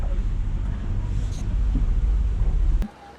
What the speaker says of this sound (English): the wind is funneling through the islands and creates an increased wind